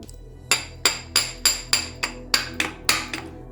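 A hammer strikes a metal rod driven into a grease-packed bore to push out a bearing, in a Volvo 760 to DeLorean engine swap: nine sharp, ringing metallic blows at a steady, slightly uneven pace, close and loud with no talk.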